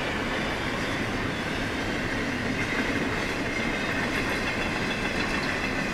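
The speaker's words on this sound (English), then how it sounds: "It's usually not that big of a train, not as big as this one is." A long freight train rumbles steadily past in snow with a continuous roar of wheels on rails, loud and close throughout without pause.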